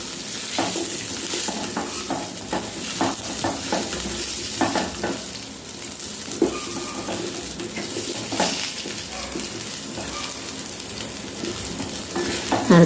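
Food sizzles steadily in a pan while cluster beans are stirred for chutney, a utensil scraping against the metal in irregular strokes.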